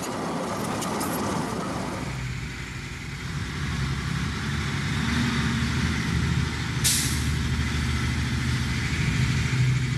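A truck rumbles loudly and steadily near an industrial site where old drilling wells are being modernized, with a single sharp hiss of its air brakes bursting out midway through the continuous engine drone.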